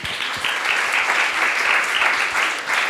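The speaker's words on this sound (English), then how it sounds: "Wow, give it a round of applause." Audience applause at a youth forum closing event, dense steady clapping from a crowd, loud and continuous throughout.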